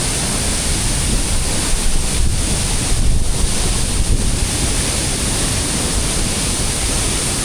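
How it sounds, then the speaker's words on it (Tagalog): Strong wind roars constantly inside a cave on Mt. Romelo, a loud, rushing, surf-like noise with brief gusts pushing through. "Iba yung impact ng hangin niya rito, napakalakas."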